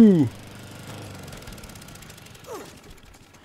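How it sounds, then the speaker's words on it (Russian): Lawn mower engine in the video game Dead Rising 3 sputters and drones briefly, a low rattling motor sound with a rising whine near the end, heard beneath a man's excited speech. "Газонокосилка, работай!"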